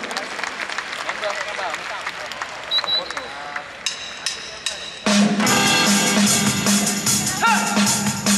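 An audience bursts into loud, sustained applause for a singer at a musical session during the 55th PAS Muktamar, following a stretch of quieter talk and clapping.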